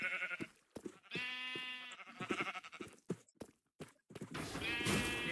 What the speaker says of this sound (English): Yay, red sheep.